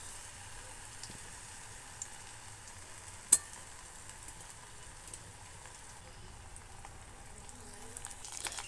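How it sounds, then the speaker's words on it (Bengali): Bitter gourd leaf fritters, uchche pata beguni, fry in hot oil with a soft, steady sizzle and crackle, faint and continuous, broken by one sharp tick near the middle; no one speaks. "দেখুন এইভাবে করে আমি সবগুলো ভেজে নেব।"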